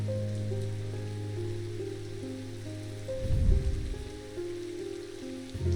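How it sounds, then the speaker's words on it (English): Rain falls in the video game Strange Antiquities as a steady, fairly soft patter under a low ambient drone, with a brief louder rumble in the middle and no speech. "It's raining"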